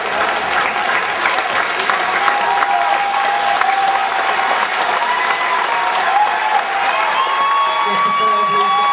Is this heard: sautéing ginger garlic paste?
no